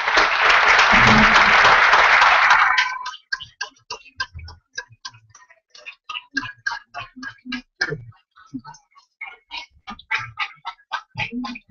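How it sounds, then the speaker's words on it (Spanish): Audience at a football press conference in the southeast of Córdoba gives a loud round of applause that fades after about three seconds, leaving a few scattered, sparse claps ticking on irregularly afterward. "Lo vamos a despedir con un fuerte aplauso."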